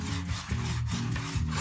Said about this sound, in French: Quand la poudre d'émery est entraînée par une simple lame en cuivre, elle est capable de scier littéralement le granit.